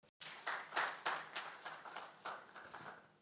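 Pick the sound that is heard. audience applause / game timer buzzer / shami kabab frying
audience applause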